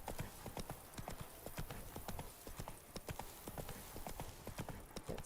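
Roach, the horse in The Witcher 3, gallops with continuous rhythmic hoofbeats that clop steadily at close range over an ambient outdoor bed.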